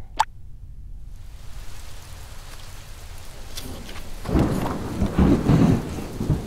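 Rain and thunder from a thunderstorm, with a sharp crack at the start, then steady rainfall that swells into heavy, rumbling downpour toward the end, no voices.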